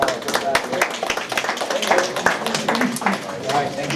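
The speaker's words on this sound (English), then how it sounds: "Give yourself a applause" Students clapping in a classroom, a loose burst of handclaps mixed with chatter and voices talking over it.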